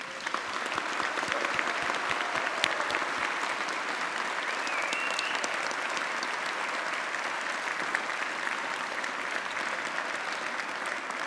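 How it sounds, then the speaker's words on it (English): Applause from a university graduation audience for the graduates, dense sustained clapping from a large crowd filling the hall at an even level from start to finish. "let's give these graduates a big round of applause"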